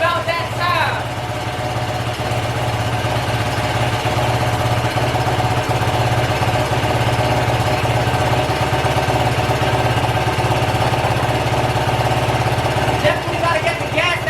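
Yamaha YFZ450R quad engine, warmed up after weeks unused and running on bad gas, idles steadily and close with a constant low drone throughout, a person talking over it.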